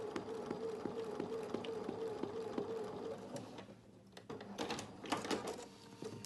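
Sewing machine stitching flowers onto fabric, running fast with a rapid, even mechanical whirr and regular clicks, then stopping and giving way to a few handling knocks and rustles.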